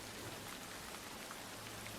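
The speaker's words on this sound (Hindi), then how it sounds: "यार ये बारिश कब जाएगी?" Steady rain falling outdoors, a dense continuous hiss of drops filling the whole stretch, fairly loud and even, with no voices.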